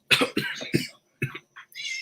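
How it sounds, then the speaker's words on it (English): A rapid burst of harsh coughs, three or four in a row, then a pause and a few shorter coughs and a throaty rasp, close up, from an ordinary cough caused by dirt. "It's just normal cough."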